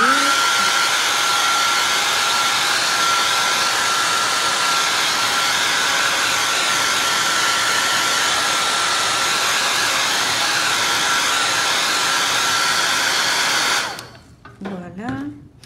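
A hair dryer runs continuously to dry paint on fabric, giving a loud, steady, close-up roar for about fourteen seconds before it cuts off abruptly into near quiet.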